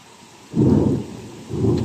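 Heavy rain hisses steadily in the Jizan highlands, swelling twice into deep, rumbling surges that sound like a downpour strengthening in gusts.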